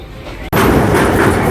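The Tungabhadra Express rolls through Andhra Pradesh toward Telangana. A low rumble jumps abruptly to a loud, close roar of wheels and carriages midway, which then stays steady and clattering.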